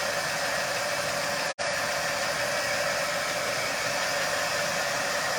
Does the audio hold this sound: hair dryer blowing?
yes